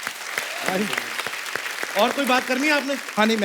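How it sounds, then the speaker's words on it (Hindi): Studio audience applause on a Hindi comedy talk show, a steady clatter of clapping running under lively conversation between men on stage. "जोरदार तालियां प्रियांशु जी के लिए।"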